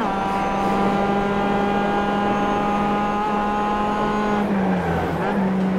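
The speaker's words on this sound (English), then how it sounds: "A bit later, on board of my car, as Jesper tries again to go on the inside," On-board racing car at Brands Hatch Indy circuit during a club race heat, engine droning steadily and loud throughout with a sustained harmonic tone, dipping briefly near the end as it shifts or lifts.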